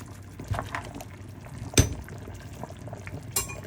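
A pot of Jamaican one-pot soup with turnips bubbles at a boil: a continuous, close liquid burble with a couple of sharp clinks of utensils against the pot.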